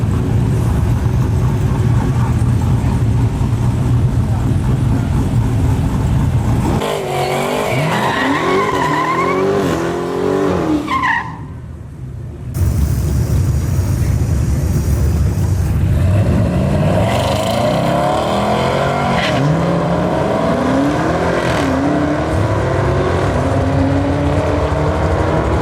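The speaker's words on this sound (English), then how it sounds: "let's go watch a little bit of racing kind of in the night on a chill note" Drag racing cars run at night at Houston Raceway Park. A loud engine roars steadily, then cars rev and squeal their tires in bursts with rising and falling engine pitch. There is a short sudden gap before the roaring resumes.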